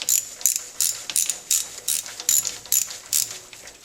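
Ratchet loosening the idler pulley bolt on a Honda Prelude's accessory belt, giving about nine quick rhythmic clicking bursts, close and clear, with no talk.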